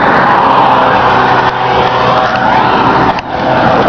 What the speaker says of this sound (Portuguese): Muito carro. Mesmo no sábado.